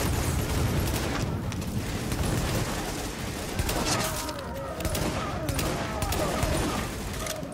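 Gunfire from The Division on Xbox One during a fight at a napalm production site: continuous dense firing and rattling bursts layered over a busy, roaring battle backdrop that runs steadily throughout.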